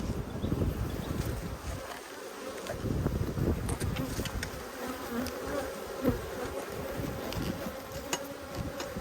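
Honey bees buzz densely and continuously around an open hive during an Australian beehive inspection, a close, loud swarm drone with occasional single bees passing near, and no talk.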